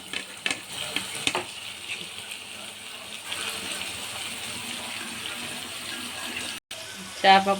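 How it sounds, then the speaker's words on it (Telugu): Fish pieces fry in oil for a fish curry, making a continuous hissing sizzle with some watery, splashy texture and a few clattering knocks near the start and end. "ఇలా ఫ్రై అయిన తర్వాత నేను ఈ చేప ముక్కలు ఇందులో యాడ్ చేసుకుంటున్నాను"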